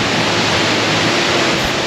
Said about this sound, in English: the cave waterfall,